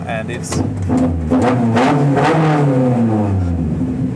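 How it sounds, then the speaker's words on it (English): A Mazda 121 fitted with a K24 engine and individual throttle bodies revs on a dyno, rising and falling loud engine tone with a rasping intake note, close and strong, with someone talking over it. "it's revving really nice. There's no banging, there's no cracking"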